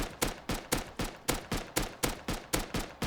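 Rapid gunfire from a weapon in the survival game Rust, about a dozen evenly spaced sharp shots over three seconds in a steady quick rhythm, loud and close with no talking.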